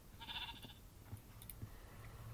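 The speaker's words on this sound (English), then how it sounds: "Dude, there's so many sheep." Sheep bleat once in a short wavering call, faint and somewhat distant, followed by light clicks and low rumbling background noise.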